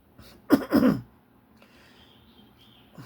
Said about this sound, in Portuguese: Vou dar uma tossida aqui, dar uma tossida